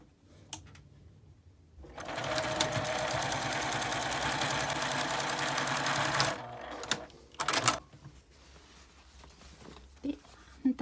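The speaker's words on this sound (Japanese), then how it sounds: "この表側から端ミシンをかけます" A sewing machine runs a steady, continuous edge stitch along the right side of a fabric drawstring bag for about four seconds. It is preceded and followed by quiet handling taps and faint fabric rustles.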